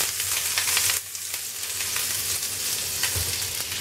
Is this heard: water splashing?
no